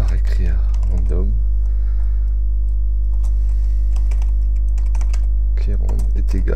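Keys clatter in scattered bursts as code is typed on a computer keyboard, fairly close, running over a low steady hum with a voice speaking at the start and end.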